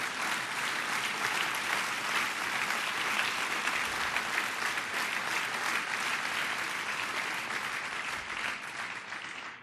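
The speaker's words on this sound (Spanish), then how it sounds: "¿No le da un fuerte aplauso a Cristo Jesús esta noche?" A church congregation gives a strong, sustained round of applause for several seconds, dense clapping that stays loud throughout before tapering slightly at the end.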